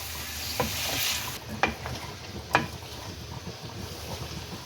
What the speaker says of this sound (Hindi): दो मिनट तक गोभी को भी इसमें फ्राई कर लें